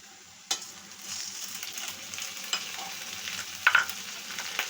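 Onions softening in a pan with cinnamon, frying with a steady close sizzle while a spoon stirs them, with occasional light scrapes and clicks against the pan.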